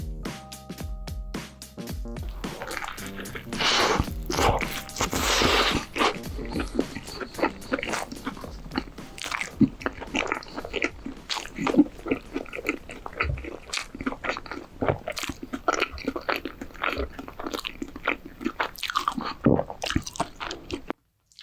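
A McDonald's Triple Onion Burger with a beef patty and mustard sauce is bitten and chewed up close, giving continuous wet crunching, squishing and smacking mouth sounds with no talk.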